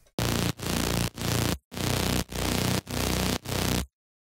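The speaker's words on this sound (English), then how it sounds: "Next, I layered this sound with a saw, which sounds like this." Serum synth layer of two detuned saw waves, one oscillator an octave down and the other two octaves down, built in FL Studio. It plays seven loud, buzzy sustained notes in a steady chopped rhythm, with no talking.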